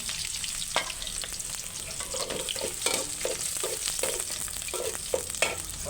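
Onions sizzle in hot oil in a pan on a stove, a continuous crackling fry broken by regular scraping stirs, with no talking.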